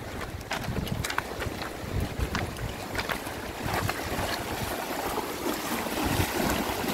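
A strong river current rushes past in a steady, loud broadband roar, with wind buffeting the microphone throughout and no pauses.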